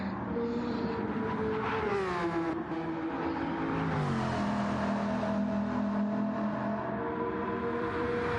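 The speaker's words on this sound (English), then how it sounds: "Nice sound to the engine for the Tomahawk." Tomahawk race car engine from a sim racing game, heard onboard as a loud, steady high-pitched whine with rising and falling gear-change pitch sweeps, continuous throughout with no talk.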